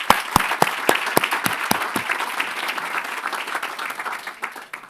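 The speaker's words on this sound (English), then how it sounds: "One more round of applause." Dense, close audience applause at the Virginia Preservation Awards ceremony 2022, with a few sharp claps leading into sustained clapping that gradually thins and fades.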